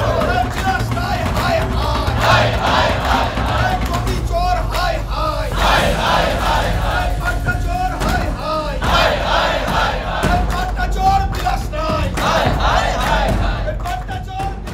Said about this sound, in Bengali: হাতে প্ল্যাকার্ড নিয়ে চোর চোর স্লোগান দিতেও দেখা যায় বিক্ষোভকারীদের।